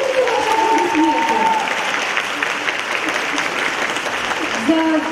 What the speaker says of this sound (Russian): За 25 лет можно аплодисменты, нужно ваши аплодисменты.